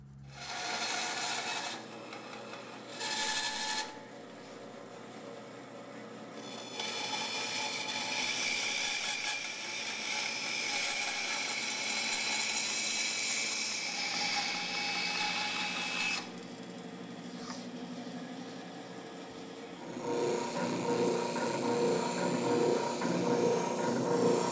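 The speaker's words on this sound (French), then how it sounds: "nous allons sabler les courbes" Sanding the wooden curves of a chest of drawers in a woodworking shop, a loud abrasive rasping hiss that starts, stops and shifts tone in long sustained passes as the wood is worked.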